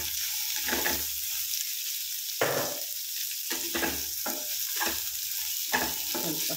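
Cauliflower frying in a pan for a dry masala side dish: a soft, steady sizzle broken by repeated bursts of stirring and scraping, close up, with no talk.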